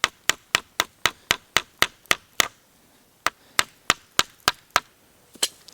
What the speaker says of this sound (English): You can either take your knife, pop it on there. So you're just going to hammer in